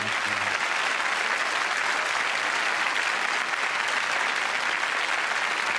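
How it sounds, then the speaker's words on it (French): Steady, dense applause from a large audience, loud and continuous from start to finish. "je vous demande d'applaudir le premier invité de ce soir"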